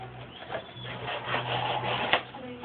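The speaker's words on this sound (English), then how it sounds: "So, push cutting not bad through this thinner stuff." A fixed-blade knife push-cuts through thin cardboard, giving a close, steady scraping crunch that ends in a short sharp snap near the close.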